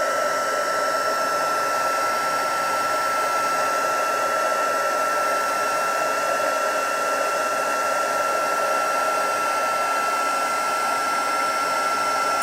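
A heat tool melts gold embossing powder on a handmade card, giving a loud, steady whirring blow with a high tonal whine that runs unbroken and close throughout.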